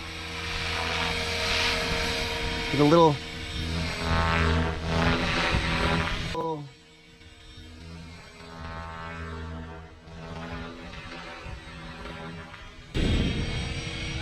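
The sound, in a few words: T-Rex 500XT RC helicopter flying stunts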